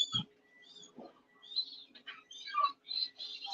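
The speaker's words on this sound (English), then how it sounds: "So some of the birds we have here, it's mostly, well, we call them kelp gulls." Kelp gulls at a penguin facility call in a scatter of short, fairly faint cries and chirps, several overlapping at moderate distance, with no talk over them.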